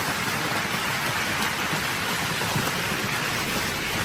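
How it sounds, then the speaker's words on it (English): Steady heavy rain pours down, a dense continuous hiss of drops hitting surfaces nearby with no voices. "Oh, there's the rain."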